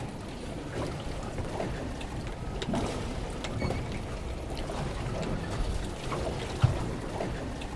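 A fishing boat slowly reversing while deep-sea fishing, a continuous low engine rumble mixed with water swishing and wind, with a single sharp knock near the end.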